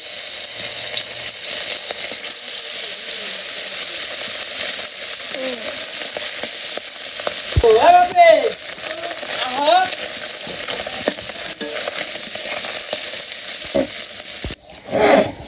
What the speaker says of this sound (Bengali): তো কড়াইতে তেল দিয়ে দিছি, গরম হয়ে গেছে, মাছ দিয়ে দিই।